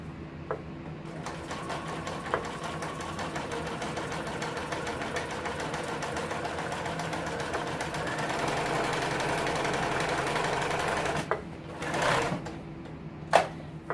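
A sewing machine stitches in reverse along a window seat cushion cover, a steady close mechanical whir that runs for about eleven seconds, then stops, followed by a couple of light clicks.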